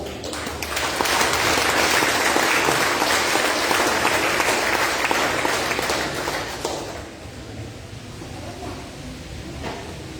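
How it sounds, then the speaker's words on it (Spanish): Congregation at a Q'eqchi' Mass applauds, a full, sustained round of clapping that holds strongly for several seconds, then thins and fades into scattered claps. "Damos un aplauso."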